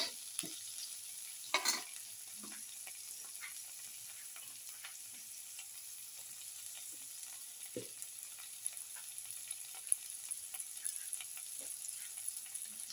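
Ground mixed spices are stirred in a cooking pan, giving faint scattered scrapes and light ticks over a steady soft sizzle, with no talking.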